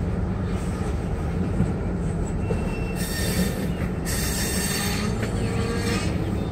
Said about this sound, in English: Okay, we're doing some yard switching here.